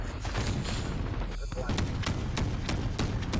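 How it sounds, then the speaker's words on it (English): Rapid gunfire in a Call of Duty: Modern Warfare (2019) multiplayer Ground War match, with sharp repeated shots and bursts over a dense rumble of distant battle and explosions, loud and continuous throughout. "Oh, that's a lot of gunfire."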